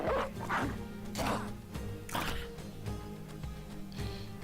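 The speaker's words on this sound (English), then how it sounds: "Release the dog." A dog in the Battle Brothers medieval combat game barks and yips several times in short bursts, mixed with battle sound effects and game noise.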